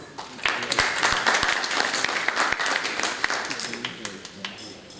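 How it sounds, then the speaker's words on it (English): Audience applause welcoming a doctor to the stage at a heart disease awareness session, a dense wash of clapping with sharper individual claps standing out, steady and fairly loud for the whole stretch. "Please give him a big applause"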